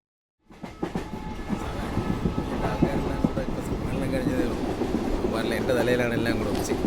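A train rumbles past at a station, its wagons clattering rhythmically and growing louder and denser as it approaches, with voices talking over the rolling noise.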